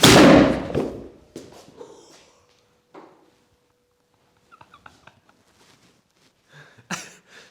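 A homemade plywood potato gun fires with one loud, sharp bang at the start, followed by fainter scattered knocks and impacts and a brief rustling burst near the end, with no talk.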